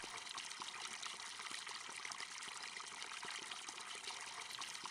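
Water runs from a spigot into a bucket in the farming game Hof Bergmann, a steady, even trickle and splash that continues alone without a break.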